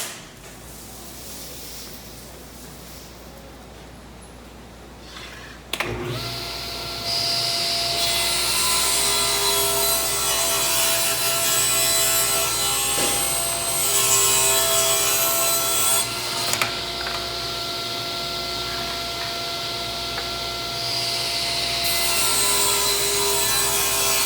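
A dust collector runs with a steady roar while a saw cuts wood molding pieces into mirror trim, a loud, continuous whirring hiss with a rasping cut layered over the drone and an abrupt jump in level when the machine starts.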